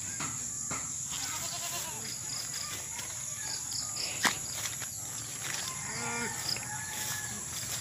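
A goat bleating outdoors along a muddy village path after rain in the Philippines, the calls faint and mixed into steady background noise with a few scuffing footsteps.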